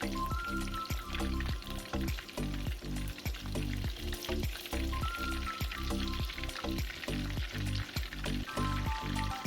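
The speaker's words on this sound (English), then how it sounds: "We will fry the chapli kebab for 3 minutes on each side." Chapli kebab frying in oil, a loud continuous sizzle with regular pulsing crackles spread evenly across the whole stretch, no voices.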